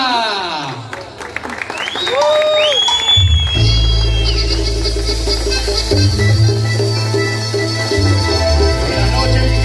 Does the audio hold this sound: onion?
no